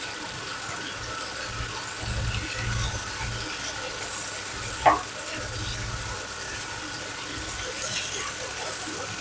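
Chicken handi sizzling and frying in a pot over a high flame, a steady soft crackle throughout with one brief sharp clink near the middle; faint low voices murmur in the background.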